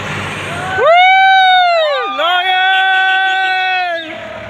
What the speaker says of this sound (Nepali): एम्बुलेन्स आउँछ आउँछ त हौ